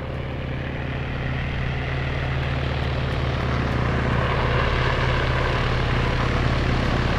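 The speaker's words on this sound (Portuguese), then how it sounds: "Acho que é o helicóptero da polícia." Police helicopter in the video game Arma 3, a steady, loud, broad rotor and engine roar that holds constant throughout with no clear change in distance.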